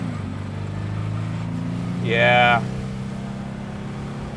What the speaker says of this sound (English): First gear, gonna give it the beans a little bit.